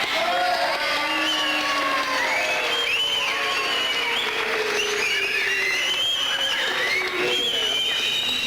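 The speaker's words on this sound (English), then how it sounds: "let's keep the whistling and the yelling down, please" School audience at a student council election cheers, whistles and yells continuously after a candidate's speech, a loud wash of crowd noise with whoops and applause throughout.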